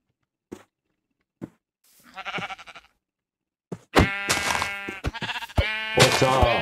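Sheep in the video game Minecraft bleat: a few faint, short clicks and one soft bleat come first, then a run of loud, close, wavering bleats follows in quick succession.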